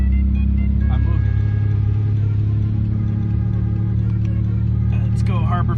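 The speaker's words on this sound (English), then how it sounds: "I got the truck in gear and I'm throttling it." A truck engine, hooked to a Harbor Freight Badlands 12,000 lb winch while stranded in the desert, runs steadily loud in gear under throttle, a constant low drone with faint clanks and whines near the end.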